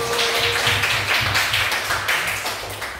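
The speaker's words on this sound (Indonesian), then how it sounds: "Oke, tepuk tangan dulu." A class of vocational high school students in Indonesia claps hands together in a steady, rhythmic burst of applause lasting a few seconds, close and lively with no talking.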